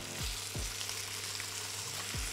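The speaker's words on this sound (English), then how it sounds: "Let them crisp on one side and then flip them over, crisp on the other" Lamb chops fry and crisp in a pan with a steady, moderately quiet sizzle and crackle, broken by a few low thumps as they shift, with no one talking.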